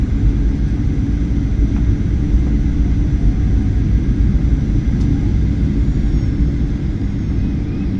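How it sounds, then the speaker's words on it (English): Steady loud low rumble of a Ryanair jet landing at Trieste airport in Italy, a continuous broadband roar holding evenly throughout with no voices. "here's the Ryanair plane landing at the airport."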